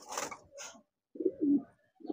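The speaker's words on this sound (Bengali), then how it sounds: "কবুতর গুলা অনেক সুন্দর।" Pigeons kept on a small home farm give a few soft, low coos in short separate bursts with brief silences between, close by and fairly quiet.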